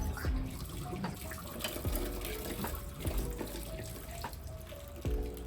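Baby bottles being washed under a running tap at a sink, water splashing and trickling steadily with occasional clinks and knocks of the bottles against the basin, close by and moderately loud.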